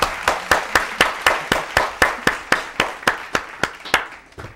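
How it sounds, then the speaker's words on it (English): A small studio audience claps in a steady, even rhythm, each clap crisp and distinct, lasting several seconds before trailing off at the end. "Let's give a big round of applause for Meredith."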